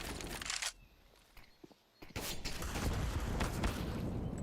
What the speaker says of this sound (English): the nade is gonna take him down to just 8 points of health